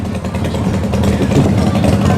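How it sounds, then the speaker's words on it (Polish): Four or five loud motorcycles rev their engines together at an outdoor summer event, a dense, close, continuous growl of overlapping engines. "pokażą nam, jak mają głośne motory"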